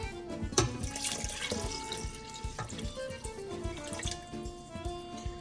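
Tomato cans rinsed with tap water while making Sunday sauce with beef and pork, heard as close running and sloshing water with drips and light metallic clinks, a clear tonal hum underneath, at a moderate, even level.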